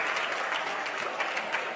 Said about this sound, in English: You can hear the crowd giving them a huge applause.